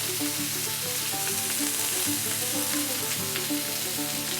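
Green onions fry in a little oil in a pan, a loud, steady crackling sizzle heard up close with faint stirring, no voices.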